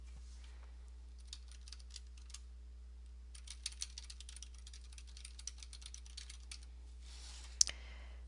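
Typing on a computer keyboard while entering an email address for a Gmail account setup, with quick runs of light key clicks in bursts and one sharper tap near the end, close and fairly quiet over a steady low hum.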